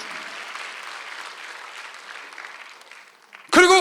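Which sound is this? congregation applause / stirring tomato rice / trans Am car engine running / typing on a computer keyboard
congregation applause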